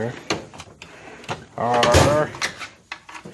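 A drawer of fittings in a cluttered home workshop slides open and shut with a few short wooden knocks and rattles, close by, while someone talks over it.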